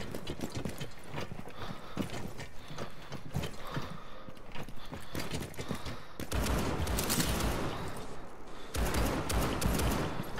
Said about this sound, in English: Josh, are you trying to break the hatch with your gun?